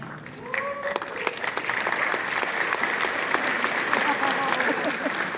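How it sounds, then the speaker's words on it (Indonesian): A church congregation bursts into steady applause, dense continuous clapping that holds for several seconds, with a few voices rising faintly above it. "Jadi beberapa tepuk tangan yang ikut-ikutan."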